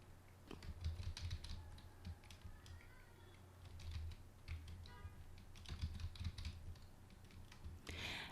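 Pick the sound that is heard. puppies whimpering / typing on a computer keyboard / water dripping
typing on a computer keyboard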